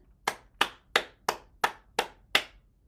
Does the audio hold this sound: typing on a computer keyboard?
no